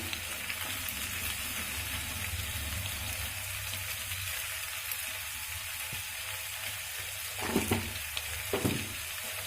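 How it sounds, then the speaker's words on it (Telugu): Chicken fries in a pan with salt added, making a quiet continuous sizzle with a couple of louder stirring scrapes near the end and no one talking. "సాల్ట్ వేసుకొని ఒకసారి ఇలా కలుపుకొని"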